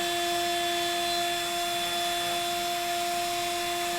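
A CNC router spindle runs at 10,000 RPM while a wine caddy is machined, holding a steady high-pitched whine with strong constant tones over a soft hiss and no talking.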